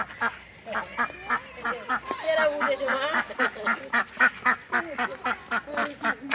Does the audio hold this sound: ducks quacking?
yes